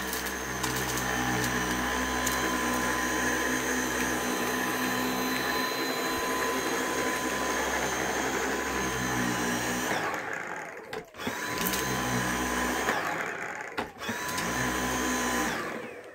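A Dyson V8 cordless vacuum cleaner runs with a loud, steady high-pitched whine and brief dips in pitch as it sucks up debris, close to the microphone.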